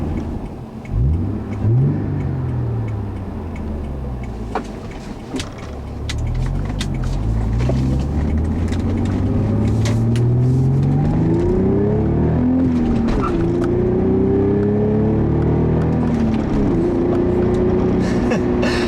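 A 1994 Acura Legend luxury sedan engine pulls steadily while driving, its note rising through a couple of revs and gear changes, loud and close from start to finish.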